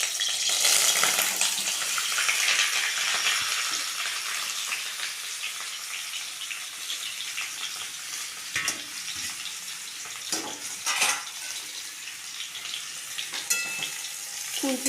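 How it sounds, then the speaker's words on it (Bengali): Boiled potatoes frying in hot oil, a loud sizzle at first that eases into a steady hiss, with scattered clinks and scrapes of stirring. "তেলটা গরম হলে আলুগুলো ভেজে নেব।"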